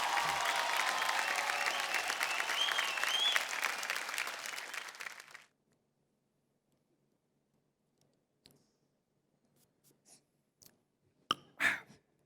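A studio audience on an Indian folk singing reality show breaks into loud, dense applause for a singer. It lasts about five seconds, then cuts to near silence with a few faint ticks and small knocks.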